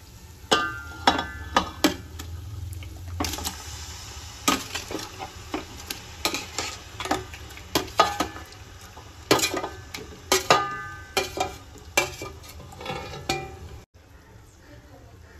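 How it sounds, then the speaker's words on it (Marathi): Marinated chicken for biryani is stirred in a pan, a spoon scraping and clinking against the metal in repeated close strokes over a low sizzle, stopping just before the end. "आता यामध्ये मॅरिनेट केलेले चिकन टाकूया"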